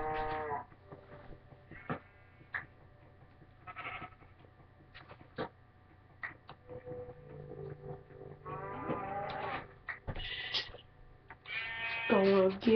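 Cows in a blocky building video game give several short moos and bleat-like calls, scattered and moderately loud, alongside game sound effects and someone talking.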